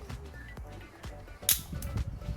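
A vintage Olympus OM-1 film camera firing its shutter at 1/1000 second, a crisp mechanical click standing out close and alone amid several quieter clicks and handling noises.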